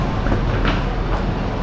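A Guangzhou Metro train rolls along with a continuous rumbling roar and faint rhythmic clatter, loud and close as if heard from inside, with no clear talk.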